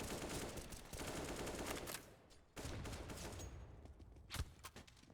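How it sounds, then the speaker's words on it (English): A Counter-Strike: Global Offensive match produces rapid, dense gunfire, then a heavy, booming grenade blast near the end, all loud and close. "Chris puts Cozy in the grave with a grenade."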